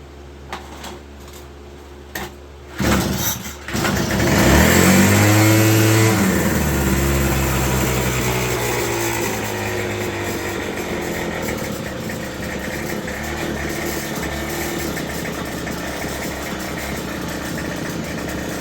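A Craftsman 25cc leaf blower engine, its throttle linkage left unhooked, sputters briefly, then surges into a loud rev and settles into a steady, sustained idle that carries on alone to the end.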